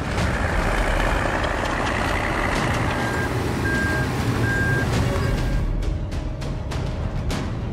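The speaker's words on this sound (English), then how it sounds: "its powerful engine demolishes the old house, breaking down walls piece by piece" The heavy engine of an H. Bauer 600 GP demolition machine runs and rumbles continuously as it breaks down an old house, with a few faint high beeps and clattering knocks over the noise.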